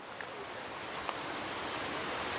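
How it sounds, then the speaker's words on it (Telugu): A waterfall roars steadily as an even wash of rushing water, loud and unbroken, with no voices. "ఇక్కడ ఒక జలపాతం ఉంది"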